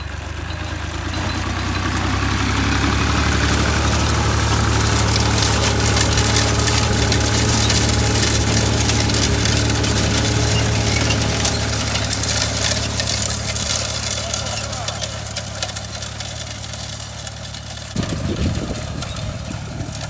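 A tractor engine pulling an SZ-1.8 seed drill while sowing winter wheat into a disked field after soy: a loud, steady, low diesel drone that runs throughout and shifts briefly near the end.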